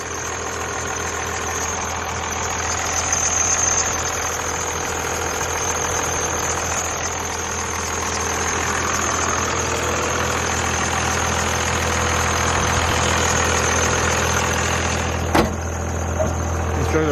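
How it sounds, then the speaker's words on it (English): Loud truck engine idling up close, a steady low rumble with mechanical knocking and faint squeaking, continuous throughout with a brief sharp knock near the end. "trucks are pretty loud."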